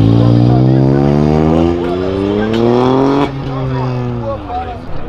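A yellow Honda Civic drives past loudly, its engine note rising and then falling as it goes by, with people talking over it.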